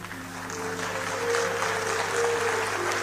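Audience applause at a Hindi poetry recital, a steady wash of clapping holding at moderate level for about three seconds, with a faint sustained tone running underneath.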